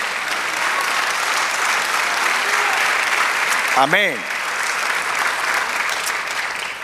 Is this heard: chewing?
no